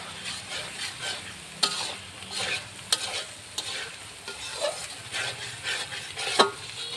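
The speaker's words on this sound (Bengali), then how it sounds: "এটা অনেক কষাতে হবে যাতে না পুড়ে যায়।" Masala with softened tomato for fish dopiaza is stirred and sautéed in a pan, close scraping strokes and spoon knocks over a continuous sizzle with irregular sharp taps and no talking.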